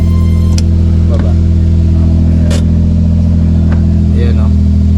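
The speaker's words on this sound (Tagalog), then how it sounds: "So ang ganda ng tunog natin sa sasakyan." A Suzuki Carry 4x4 truck engine idles loudly and steadily with a constant low hum close by, while a person speaks briefly over it at intervals.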